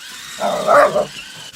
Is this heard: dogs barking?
yes